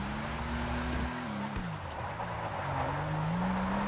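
A Vapid Nebula Turbo drifts in GTA Online, its engine droning steadily with shifting pitch and a brief tire squeal while sliding, loud and continuous with no talking.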